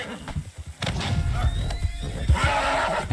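A wild horse in Red Dead Redemption 2 lets out a loud, close whinny that rises and wavers over a couple of seconds, with hoof clops and thuds around it.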